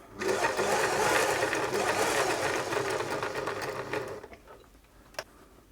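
A Singer 631G sewing machine stitches in reverse in a loud, steady whir for about four seconds, then stops, leaving faint clicks and one sharp tap.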